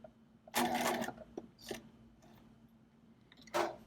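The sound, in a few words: sewing machine stitching an exposed zipper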